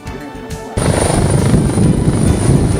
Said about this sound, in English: Then all eyes went skyward as the New Jersey State Police helicopter arrived and found a landing spot next to the Ethel McKnight School.